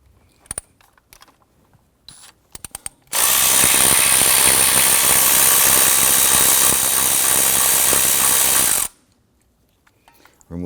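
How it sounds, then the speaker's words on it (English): A 10mm socket ratchet works the coil anchoring bolt on a 2005-2021 Nissan Frontier 4.0L V6, with a few scattered clicks first, then a loud, sustained rapid ratcheting burst of roughly six seconds that stops abruptly. "Use a 10mm socket to loosen the anchoring bolt here for that coil."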